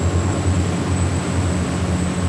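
Twin engines on a Lamborghini yacht drone steadily under acceleration, a loud, dense, continuous low rumble with a jet-like hiss on top, and no speech.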